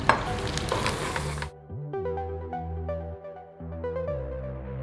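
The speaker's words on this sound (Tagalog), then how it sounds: "So ilalagay natin yung ating flour." Flour being stirred into melted butter in a pan for a cheese dip, a dense close sizzle and scraping stir that stops suddenly and gives way to tonal music.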